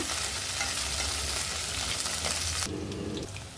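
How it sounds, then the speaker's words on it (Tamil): Loud, steady sizzling of eggplant frying in hot oil in a kadai, with a stirring scrape near the end as the hiss briefly drops. "ஒரு கடாயில் எண்ணெய் விட்டுருக்கேங்க எண்ணெய் சூடானதுக்கப்புறம் இதில் கத்திரிக்காவை சேர்த்துக்கிறேங்க"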